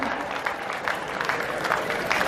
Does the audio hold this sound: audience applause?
yes